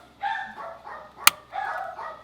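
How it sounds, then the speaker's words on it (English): Dogs barking in the background while a car's wiring and auxiliary battery are being worked on, short yelping bursts coming in a few separate rounds with a single sharp click in between. "And the dogs are barking as always."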